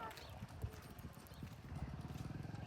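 A mare's hooves clip-clop at a farm in a quiet, rhythmic run of hoof strikes that grows steadier toward the end, with faint voices and low background noise.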